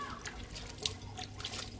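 Soft, patchy patter of water sprinkled onto the leaves of an indoor ZZ plant, a few light bursts of droplets close by with no voices.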